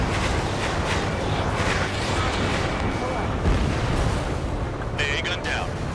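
An anti-aircraft gun is destroyed in the combat flight game Ace Combat 7, its explosion a deep, rumbling boom that sits under a constant roar of jet and battle noise, with radio voices talking over it.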